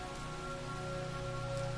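Steady rain falls without a break, an even hiss of drops striking a surface, faint and continuous, with no voices.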